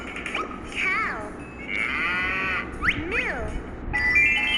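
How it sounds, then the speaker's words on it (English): A cow moos several times in a row, with drawn-out, wavering calls that rise and fall close by over a quiet background. "A cow makes a moo sound."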